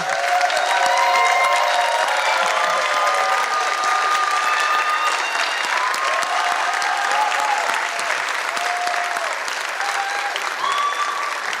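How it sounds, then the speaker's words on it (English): Sustained audience applause with scattered cheers and whistles as high school seniors stand at a 2022 senior awards ceremony, a full, even roar of clapping that continues steadily for over ten seconds. "let's give them a big round of applause"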